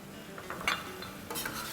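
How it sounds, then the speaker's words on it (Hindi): About six tablespoons of yogurt dropped into hot oil in a karahi over medium-low heat; a short burst of sizzling and spoon scraping, close and moderately loud, then a settled fry. "तो अब इस पर हम डाल देंगे अराउंड 6 टेबलस्पून दही"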